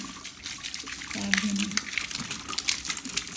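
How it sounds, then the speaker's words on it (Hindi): Water gushes steadily from an opened garden tap through a pipe, a continuous hissing flow with a voice talking over it. "तो बस ये अभी इसको टूटी को खोलते हैं"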